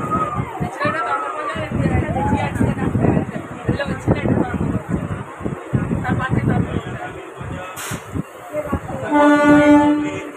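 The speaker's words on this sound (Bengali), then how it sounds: "বর্ধমান স্টেশন থেকে ট্রেন পেয়ে গেছি" A train runs at Bardhaman station with a loud rumble and rattling wagons, a horn sounding near the end, while people chatter over it.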